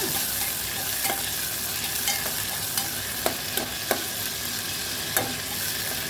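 Goat offal curry frying in a pan with a steady sizzle, broken by scattered sharp clicks and scrapes of a spoon stirring against the metal, close and continuous with no talk.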